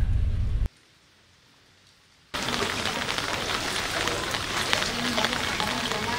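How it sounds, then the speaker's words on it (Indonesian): Heavy rain pouring down over the city of Makassar, a dense, steady hiss that starts loud, drops out briefly, then returns and continues strongly without pause. "kota Makassar memang sejak Senin kemarin terus diguyur hujan"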